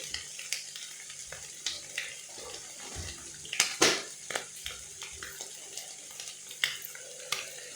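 Potatoes and smoked bacon lardons cooking in a pan, with a quiet sizzle running under occasional stirring scrapes and a few louder clatters near the middle.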